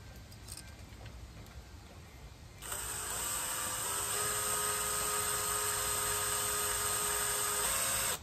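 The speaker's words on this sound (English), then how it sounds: "I put it just in the drill like that." A power drill starts up partway through and whirs steadily at high speed until the end, with quieter handling noises beforehand.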